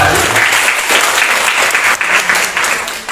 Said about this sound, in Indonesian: Tepuk tangan ya untuk Anda semua yang menjawab tadi.